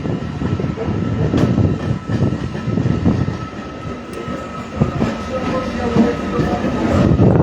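An inaugural special train pulls into a platform at Krishnanagar City Junction, a loud, close rumble of wheels and carriages with rhythmic clatter and occasional squeals rolling steadily past.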